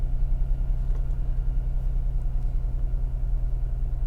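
A 2011 Infiniti G37s engine idles steadily after a push-button start, a low, even rumble with a regular throb, close and alone without talk.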